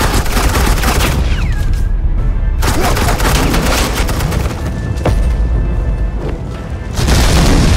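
Rapid bursts of suppressing gunfire and booming shots rattle through a Batman Telltale video game scene, loud and sustained across several seconds with brief lulls between volleys.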